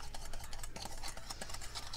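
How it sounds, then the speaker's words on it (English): A spoon whisking a mixture in a bowl, a steady scraping and clinking stir close by, continuing without pause and with no talk. "whisk for like 3-4 minutes"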